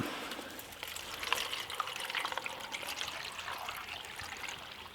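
Water poured into a pot at a wild camping site, a steady close trickle and splash that runs unbroken for several seconds with no talking.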